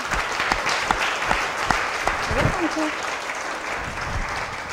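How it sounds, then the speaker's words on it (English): An audience claps warmly for cancer survivors at a genetic testing event, the applause sustained and fairly close with scattered sharper claps, while a few voices murmur and call out beneath it. "Let's give a round of applause for those people."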